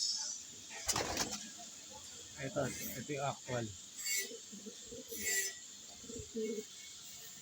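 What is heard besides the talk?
pigeon cooing while being handled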